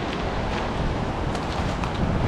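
Wind buffets the microphone over a constant wash of ocean waves on the west coast of Palawan, a dense broad rushing noise with no voices.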